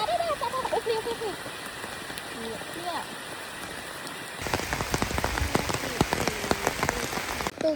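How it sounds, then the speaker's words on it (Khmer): Steady rain falls in Siem Reap, a dense even patter on surfaces that grows heavier and closer halfway through, with faint chirping birds in the background. "look at the rain and earth"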